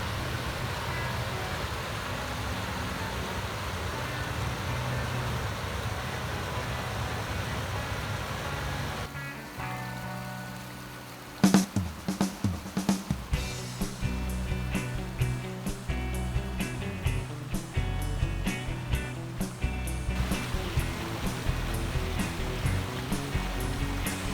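Water spills over the dam overflow at Sywell Reservoir in a loud, steady rushing roar. Partway through, the sound shifts to closer, choppier splashing with repeated sharp slaps and knocks.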